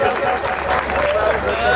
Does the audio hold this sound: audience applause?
yes